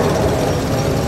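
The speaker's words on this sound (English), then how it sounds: "Drilling away." A mining drill extracts a sample in a survival video game, giving a steady, loud grinding and rattling drone that holds constant from start to finish with no pauses.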